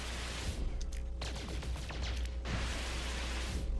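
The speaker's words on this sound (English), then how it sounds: "So those guns are actually automated to fire once, and they don't fire both at the same time" Starship cannons in the space game No Man's Sky firing in rapid bursts, close and punchy shots with a low rumbling bed, the volleys coming in a few clustered runs.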